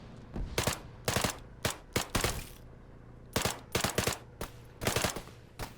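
Rifle fire in ARMA 3, an M1A SOCOM 16, cracks out in quick clustered bursts of several shots each, with brief pauses between groups and no voices.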